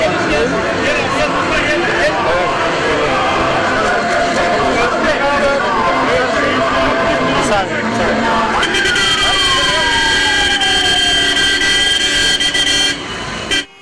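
Crowd chatter and traffic noise at a 15 July martyrs' memorial event, then several taxi horns in a convoy blare together in long sustained tones for the last few seconds.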